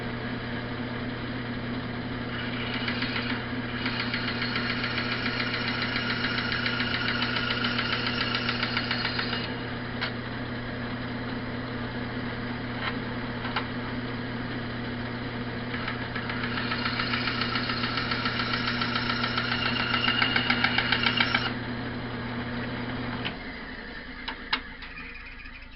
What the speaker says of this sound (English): flip around back to the bandsaw and cut the blank so I can drill it